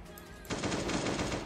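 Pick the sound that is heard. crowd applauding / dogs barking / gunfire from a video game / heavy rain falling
gunfire from a video game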